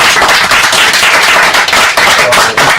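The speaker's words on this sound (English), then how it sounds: "ladies and gentlemen, a round of applause for Mr." Loud, close round of applause for a performer at a live event, dense sharp clapping from a crowd sustained without pause throughout.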